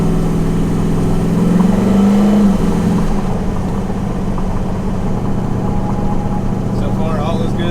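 An 1100hp twin-turbo S10 truck on a test drive: the engine sweeps up through a brief rev early on, then settles into a steady cruising drone.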